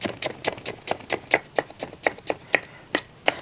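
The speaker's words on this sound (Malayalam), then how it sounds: "ചിക്കൻ്റെ മസാല പിടിക്കുന്ന സമയത്ത് നമുക്ക് അരിയാനുള്ളതൊക്കെ അരിഞ്ഞെടുക്കാവേ." A knife chops through onions on a board with quick, even strokes, about fifteen crisp taps in a steady rhythm, close and clear with no talking.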